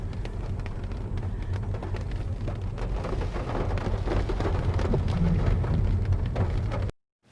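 Heavy rain pours steadily by a river below mountains, where a car is parked, as a dense, close hiss with a low rumble underneath that stops abruptly at the very end.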